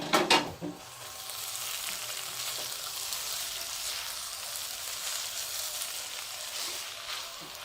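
Carrot curry with ginger powder sizzles steadily in a pan over very low gas, a continuous soft frying hiss after a brief louder crackle at the start, with no talking.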